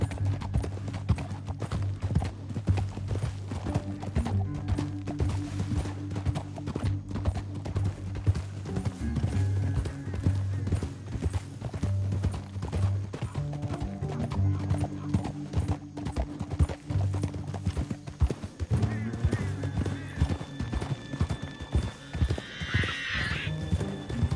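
Horse hooves clip-clop steadily in a PS4 video game, with whinnies and neighs mixed in over continuous game sound, busy and fairly loud throughout.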